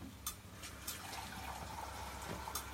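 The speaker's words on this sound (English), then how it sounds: "so we're gonna add some water" Water pours into a pot holding meat and pasta, a soft steady trickling stream heard faintly against a low background hum, with a few light knocks along the way.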